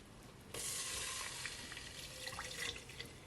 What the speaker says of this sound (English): I'm gonna add my whole milk